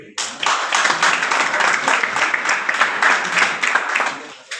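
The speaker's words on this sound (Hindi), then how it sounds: "जोरदार तालियां सर" Loud clapping from a crowd of young people at a job fair in Jind, a brisk burst of many hands that starts abruptly and holds steady for a few seconds before cutting off.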